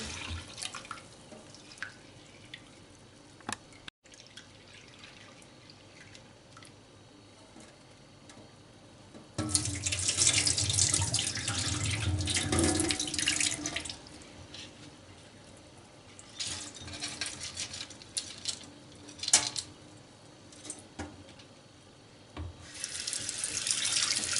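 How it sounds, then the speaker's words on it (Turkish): Lentils are washed for soup under a running kitchen tap, the water splashing into a sink with rising intensity midway, then easing into intermittent drips and splashes, close and alone. "İkinci bir suyla daha yıkayacağız. İki defa yıkarsak yeterli oluyor."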